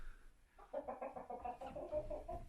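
Four-month-old backyard chickens on a homestead cluck in a close, busy run of short, throaty notes after a brief quiet start, with no talk over them.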